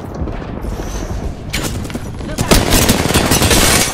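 Bursts of gunfire in a shooter game crackle in clusters, growing denser and louder toward the end, with sharp reports layered over a busy background.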